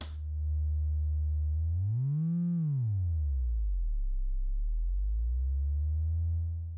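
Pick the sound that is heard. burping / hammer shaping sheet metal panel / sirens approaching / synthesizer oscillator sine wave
synthesizer oscillator sine wave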